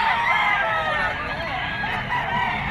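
A Kelso bloodline gamefowl stag, offered at a pet market in Bocaue, Bulacan, crows in a steady drawn-out call over a busy crowd hubbub of voices and market noise, the crowing partly masked by the surrounding chatter.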